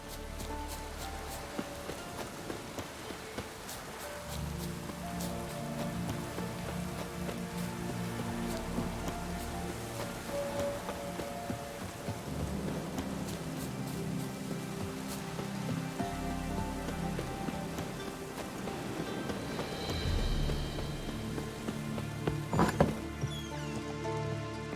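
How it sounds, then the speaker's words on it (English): Steady rain in the video game The Witcher 3: Wild Hunt patters on surfaces throughout, with a sharp crack of thunder late on and a low rumbling bed underneath. "Looks like rain."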